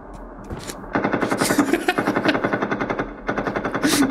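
Rapid bursts of Kalashnikov-style automatic gunfire in a voice message, loud and close, with a short burst followed by a long sustained rattle, a brief pause, then another burst.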